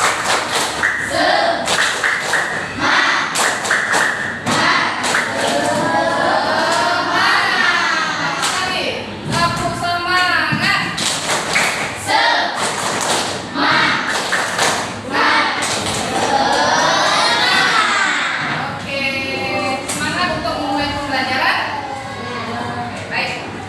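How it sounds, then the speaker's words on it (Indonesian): A classroom of children performs a rhythmic clapping chant, sharp claps and thumps landing in steady patterns while young voices chant and call along loudly throughout. "kita akan memulai dengan tepuk semangat"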